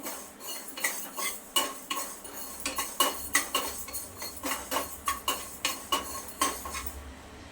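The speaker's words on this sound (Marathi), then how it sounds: "दोन चमचे मेथी घेतली आहे आता हलकी भाजून घ्यायची" A spoon scrapes and clinks against a dry pan in a quick, regular rhythm, stirring fenugreek seeds as they roast, close and clear.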